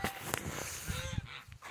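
A gander on a Romanian farm honks several times in short, hoarse bursts at moderate distance, with other fowl calls and faint background noise around it.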